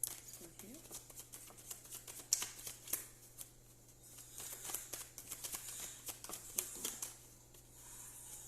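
A Paulina Tarot deck is shuffled by hand: a steady run of soft, quick riffling card clicks, fairly quiet, over a low constant hum.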